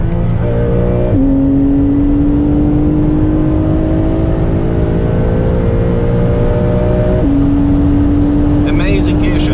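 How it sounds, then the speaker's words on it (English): Porsche 992 engine with around 450 horsepower pulling hard uphill on the Kasseler Berge, droning loud and steady with quick gear shifts marked by sudden pitch drops, under constant wind and road roar. "Amazing gear shifts, super fast gear shifts, very, very strong on upshifts, sweet on downshifts."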